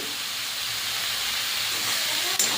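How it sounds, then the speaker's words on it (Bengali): Boiled broccoli sizzles while frying in a pan, a steady, moderately loud hiss that continues unbroken, ending with a brief clink near the end. "সিদ্ধ করে রাখা ব্রকলিগুলো দিয়ে দিলাম এবার একটু কষিয়ে নেব"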